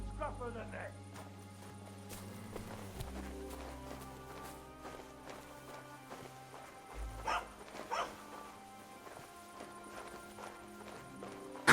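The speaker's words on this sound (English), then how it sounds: "No one wants to hear your barking." A dog barks in Kingdom Come: Deliverance II, a few scattered barks over a continuous music bed with hoofbeats and footsteps, the barking moderately loud but partly buried in the game score.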